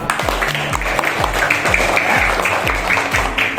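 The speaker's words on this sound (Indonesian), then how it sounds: "Tepuk tangan untuk kita semua." A class applauding in an Indonesian religious lesson, rhythmic group clapping in a steady repeated beat, fairly loud and close, with faint voices mixed in.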